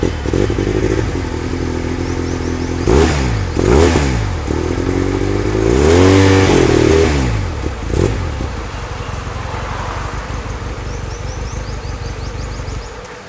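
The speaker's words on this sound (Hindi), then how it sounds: "listening to the sound note of this particular motorcycle" A Sigma Motorsport Valentino 350 R motorcycle idles with a grumbly note, then its engine is blipped in several sharp revs that rise and fall. Afterward it settles back to a steady, loud idle close by.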